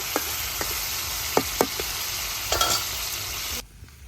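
Fish being sautéed with spices in a pan for a Bengali bhuna, a dense steady sizzle with a few scraping stirs, close and loud, cutting off abruptly near the end.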